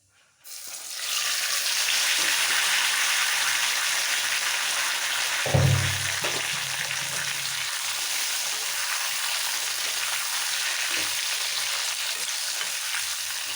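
Mango pieces for a mango oil pickle drop into hot oil in a pan and set off a loud, steady sizzle that holds for over ten seconds, with a brief thump and surge as they go in.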